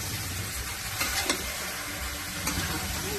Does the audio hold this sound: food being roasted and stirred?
yes